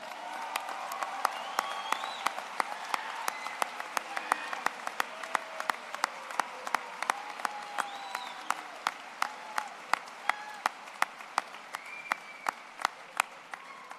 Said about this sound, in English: We're going to give you a big round of applause.